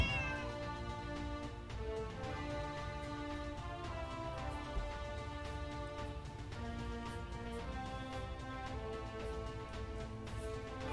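Kitten meows from the VR game Kitten Cannon VR ring out repeatedly over a dense, steady bed of game music, fairly loud and close with no talk.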